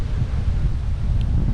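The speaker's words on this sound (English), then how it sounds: "And with the amount of wind blowing, I'm not sure trying to talk about every campsite would do much good." Strong wind blowing across an open county park campground, a steady low roaring rush buffeting the microphone, loud and continuous with no voices.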